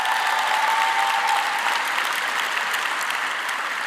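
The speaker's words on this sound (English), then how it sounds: "So please also give her a round of applause." Sustained applause from an audience at a medical school declaration ceremony, many hands clapping evenly in a large hall with a faint tone briefly audible early on.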